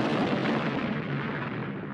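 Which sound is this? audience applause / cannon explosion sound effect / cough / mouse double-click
cannon explosion sound effect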